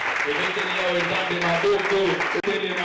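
A church congregation cheers and applauds at a worship event, a dense steady wash of clapping and voices lasting throughout, with music or singing tones running underneath.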